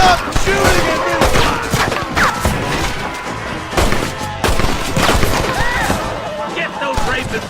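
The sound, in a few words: gunfire in a western film shootout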